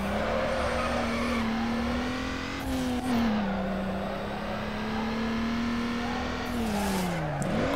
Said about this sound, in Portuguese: Vocês vão ver só como é que é o modo drift